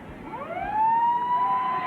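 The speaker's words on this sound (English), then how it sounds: "within any second we will hear the final siren go." A rugby league ground's final siren ends the match with one long, steady wail that rises and then holds, heard through broadcast sound from a distance.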